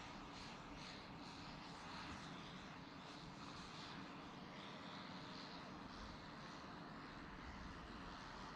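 An aircraft touches down at Boeing Field, heard as a steady, distant engine roar and broad wash of noise that holds constant throughout, faint overall.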